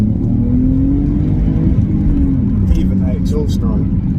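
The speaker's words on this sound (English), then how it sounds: "even that exhaust note, that's lovely" A BMW E46 325Ci engine revs with a deep, steady exhaust rumble throughout, close by and loud, with faint higher whines near the end.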